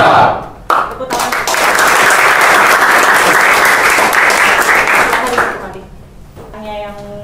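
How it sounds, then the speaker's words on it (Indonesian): A classroom of vocational high school students in Indonesia claps together in a loud, dense burst after a sharp start, sustained for several seconds before tapering off, with a voice speaking at the end. "Tepuk tangan"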